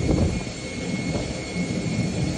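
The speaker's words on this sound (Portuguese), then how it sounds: "Olha lá, outro avião, ó." Airplane flying overhead during a heavy storm over a flooded area, a steady, loud jet-engine roar holding throughout without a break, with no voices.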